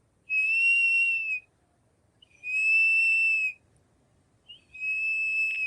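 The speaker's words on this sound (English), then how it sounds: "Rufous chatterer, that I would want you to see" Three clear, sustained whistled notes of a rufous chatterer in Uganda, each about a second long and evenly spaced, ringing out alone over quiet background.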